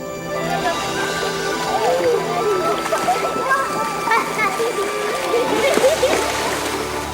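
Irrigation water rushes and splashes into a garden plot in Egypt, a steady loud sloshing flow with people and children talking over it.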